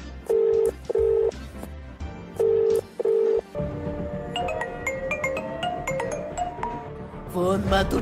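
Touch-tone dialing beeps, several separate tones in two pairs, followed by a steady hum and a phone tone sequence near the end.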